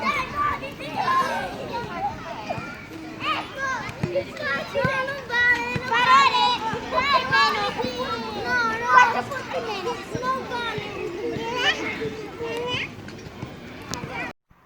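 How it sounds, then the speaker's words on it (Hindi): Children play and shout at a playground on Eid, a busy, continuous babble of high excited voices and squeals close by, with scattered calls rising and falling throughout. "तो बच्चों का शोर आप लोगों ने सुन लिया होगा"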